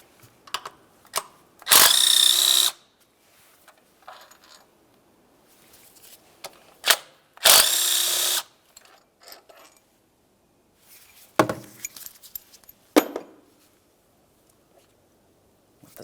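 A power tool spins out the two 10mm bolts holding down a thermostat housing on a 2003-2011 Mercury Grand Marquis engine, coming in two loud, close bursts of about a second each, with scattered clicks and clanks from tools and parts between them.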